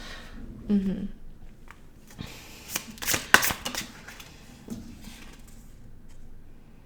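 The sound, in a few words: handling and shuffling tarot cards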